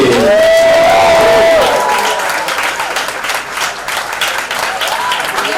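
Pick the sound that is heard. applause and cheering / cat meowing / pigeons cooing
applause and cheering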